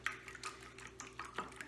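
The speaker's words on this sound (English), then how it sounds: "I'm gonna beat this with a whisk for a little bit so it's combined." Two eggs beaten with a whisk in a bowl for fried rice, quiet rhythmic clinks and taps of the whisk against the bowl, about a dozen light strokes.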